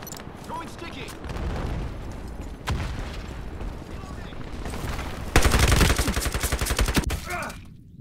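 Rapid gunfire bursts from a shooter video game, dense automatic fire ending in a loud sustained volley near the end, with excited talking over much of it.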